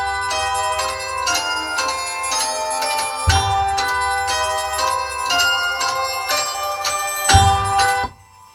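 Raw, unmixed recording of cymbals played with a wintry tremolo for a prog rock intro, a dense shimmering metallic wash with repeated swells and low thumps that cuts off abruptly near the end.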